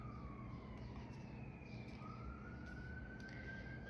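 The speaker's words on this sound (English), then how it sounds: "let's send a little thought and prayer to these people where the ambulance is headed to" An ambulance siren wails outside, its tone gliding steadily upward and downward as it passes, fairly distant over continuous low traffic rumble.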